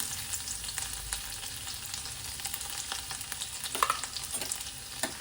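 Steady sizzling of garlic frying in hot oil with cumin seeds for a tempering, a dense crackling hiss with scattered small pops, close and even, with no talking.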